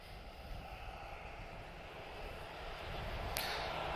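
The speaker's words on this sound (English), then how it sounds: "Ryanair, 737 ATS, he's off to Rome" A Ryanair Boeing 737 takes off from Lisbon Airport, a distant, broad jet roar that swells gradually and steadily over a few seconds, with no voices.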